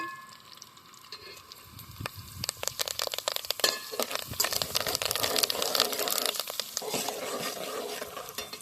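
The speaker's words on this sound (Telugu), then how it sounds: "ఇవన్నీ మంచిగా ఫ్రై అయిపోయిందండి" Ingredients for an ivy gourd roti chutney frying in a pan: a steady crackling sizzle with spattering pops and scraping stirs, building and continuing close up.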